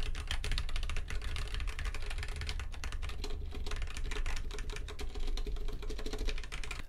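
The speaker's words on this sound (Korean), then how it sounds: "한번 타이핑 소리를 쳐보면" Rapid, continuous clacking of keys on a custom acrylic stacked mechanical keyboard, crisp and close, with a hollow, thocky tone and no talking.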